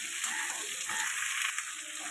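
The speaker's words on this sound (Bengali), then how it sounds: "এবার ঝিঙে আর আলুটা একসাথে দিয়ে দিলাম। এটা ভালো করে এখন কষাবো।" Ridge gourd and potato stir-fried together in a pan, a loud, steady, close hiss of frying oil with faint stirring scrapes underneath and no talking.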